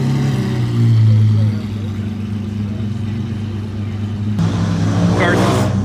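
A car with an aftermarket exhaust revs at the Woodward Dream Cruise, surging loudly near the start before dropping back to a steady idle-like drone, with street noise and crowd talk mixed in.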